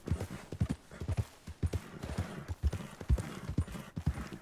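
Horse hooves clip-clopping in the video game Red Dead Redemption 2, a steady close rhythmic trot of sharp hoof strikes with no talk over it.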